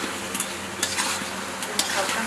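Ground cinnamon and roasted cumin powder get a light stir in a sizzling pan, with a continuous close hiss and soft scraping strokes of a spoon.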